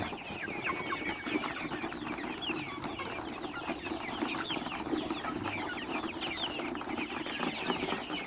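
A flock of 10-week-old Roman Brown laying hens clucks steadily in a poultry house, many overlapping calls forming a continuous, moderately loud chatter throughout, with no voices.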